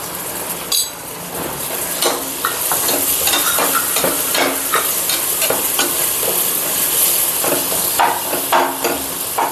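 Spices, tomato and onion sauté in a pan for a coconut-milk mushroom biryani, a steady loud sizzle broken by repeated scraping and clinking of a spoon stirring against the pan, with no voices.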